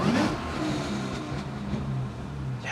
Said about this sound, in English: The best thing about having a car with a supercharger by far is the whine